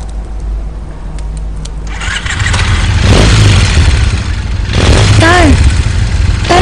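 A motorcycle engine starts up, rising from a low hum into a loud, rough running rumble, close by, with voices talking over it.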